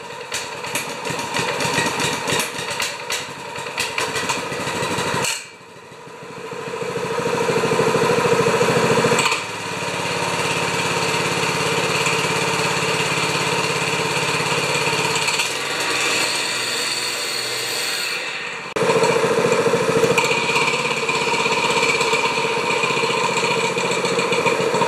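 A 196cc earth compactor engine starts up and runs loudly and steadily, its rough mechanical drone shifting in pitch a few times as it settles, with no talk over it.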